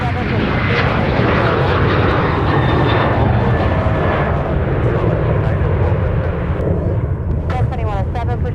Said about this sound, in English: A couple more arrivals on final approach that we can see